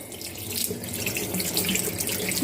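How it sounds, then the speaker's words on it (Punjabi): Water pours steadily over vegetables in a cooking pot during home cooking, a close, continuous splashing rush for the whole stretch with no voices. "ਇਹਦੇ ਉੱਤੇ ਦੀ ਪਾਣੀ ਪਾ ਦਾਂ ਆ"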